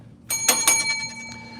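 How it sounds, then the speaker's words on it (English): A bell struck twice in quick succession rings out close and bright, its clear metallic tone lingering and fading over the following second, with no voices. "Ring that bell, you just dropped some gold."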